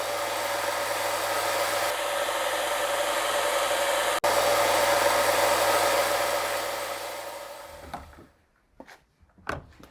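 Bench grinder shaping tapers onto TIG welding tungsten electrodes, a steady loud whine with one sharp click midway, then winding down and stopping into a few faint knocks.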